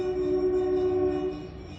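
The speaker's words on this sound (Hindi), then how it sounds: "हॉर्न बजाती हुई ट्रेन।" A loud, sustained train horn blares steadily, then cuts off, leaving the rumble of the passing train to fade, on a railway in Himachal Pradesh.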